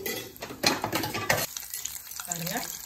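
Prawn vada frying in oil on a medium flame, with a steady sizzle broken by stirring and utensil scrapes against the pan, close up, the sizzle continuing on its own afterward.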